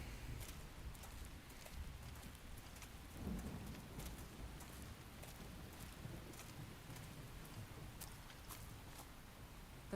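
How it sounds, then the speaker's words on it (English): Rain and thunder in the video game Xenoblade Chronicles X, a soft steady downpour with a low roll of thunder rumbling once in the distance, faint overall. "And then it stops raining."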